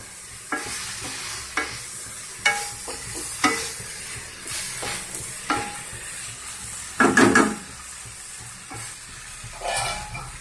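Mutton pieces fry in oil in a pan, a steady sizzle broken by regular scraping stirs of a spatula against the metal, with a louder burst of sizzling near the middle, close by and without talk.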